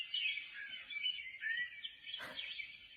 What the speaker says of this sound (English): And it keeps randomly going off with bird noises